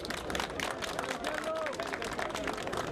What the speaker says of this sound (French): Applaudissez pour Mariamba, s'il vous plaît.